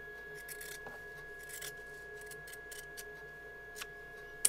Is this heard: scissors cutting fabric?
yes